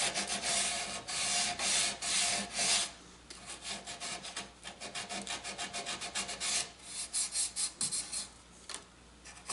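Hand sanding on wooden label holders: repeated rasping strokes, some in quick rhythmic bursts, others longer sweeps, close and fairly loud with no talking.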